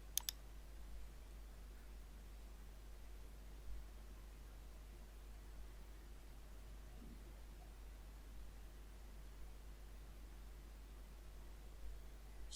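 A computer mouse clicks faintly, once near the start and again at the end, against a quiet background hiss.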